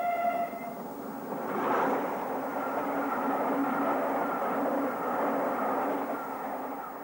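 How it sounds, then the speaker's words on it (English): An early morning express for Exeter and the West races through a station on the Somerset and Dorset line, a sustained rushing rumble that builds and stays close, with a brief tonal whistle at the start. "An early morning express for Exeter and the West races through the station"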